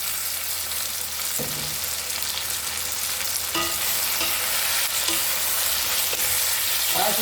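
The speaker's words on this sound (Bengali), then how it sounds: "কড়াইশুঁটিটা মশলার সঙ্গেই ভাজা হয়ে যাবে।" Green peas fry with spices and tomato in a pan, a continuous loud sizzle with periodic scraping clicks from stirring, steady throughout and free of talk.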